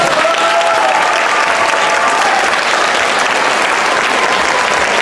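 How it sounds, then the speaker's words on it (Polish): Full, continuous applause from an evening concert audience in a hall, steady and loud for several seconds with no talking on top. "Brawa dla pana Marka i dla artystów."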